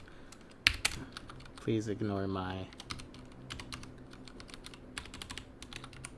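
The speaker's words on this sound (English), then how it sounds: "I'm so bad at typing" Rapid typing on a computer keyboard during a livestream, with steady key clicks running throughout and a brief stretch of talking partway through.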